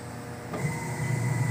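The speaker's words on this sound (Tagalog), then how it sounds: "Umandar na yung dryer niya." An automatic washing machine starting its dryer spin cycle, a steady close motor hum that ramps up after a faint click and settles into a continuous droning whir, with no voices.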